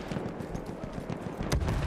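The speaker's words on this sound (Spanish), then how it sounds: "acá tenemos un caballo" A horse in a video game clip-clops along with rapid, regular hoofbeats over a steady low background, the steps growing louder toward the end.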